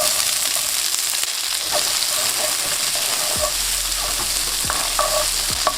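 Garlic and red chilies fry in oil, a steady bright sizzle running throughout, close and fairly loud, with a few stirring scrapes and knocks of a utensil against the pan.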